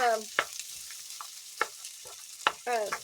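Chopped corned beef is stirred in a pan, with scraping spatula strokes and light sizzling coming in a few separate bursts. Brief faint voice-like sounds at the start and end.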